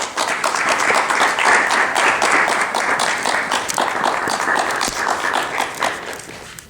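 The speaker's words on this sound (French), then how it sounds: "Applaudissons, applaudissons." Sustained audience applause at a Pan-African film festival screening in Cannes, dense steady clapping from a crowd lasting throughout without any speech.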